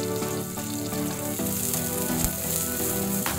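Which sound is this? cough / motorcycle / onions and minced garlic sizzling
onions and minced garlic sizzling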